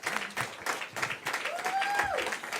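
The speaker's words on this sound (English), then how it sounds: "So can we just hand clap just this incredible movement?" Audience hand clapping at an Equal Rights Amendment event, scattered and moderately loud, mixed with a brief whistle-like tone and murmuring voices.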